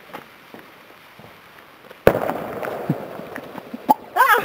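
Fireworks go off outdoors at Dofok: a sharp burst lands after a quiet stretch, followed by crackling and popping that continue alongside a couple of smaller pops and a shrill fizzing whistle near the end.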